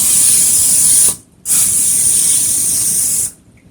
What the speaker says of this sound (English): we're going to spray them with a little bit of spray too before we stick them in the oven